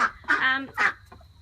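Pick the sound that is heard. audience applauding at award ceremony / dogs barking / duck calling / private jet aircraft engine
duck calling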